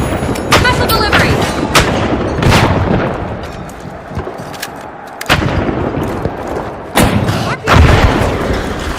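Missile explosions in a video game, a rapid series of loud booms and blasts layered over busy game noise, with voices talking throughout.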